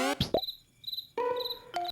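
Short bursts of high cricket-like chirping in the video game Chibi-Robo repeat against quiet, interrupted by a few sharp synthetic tones and clicks.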